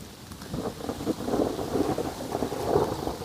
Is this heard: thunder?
yes